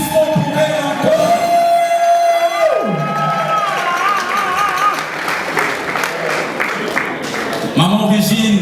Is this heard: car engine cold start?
no